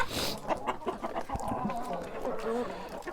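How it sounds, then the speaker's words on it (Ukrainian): A Bielefelder rooster and hens cluck and murmur close by, with a few soft calls over a steady farmyard background. "І лишається цей півень білефельдер"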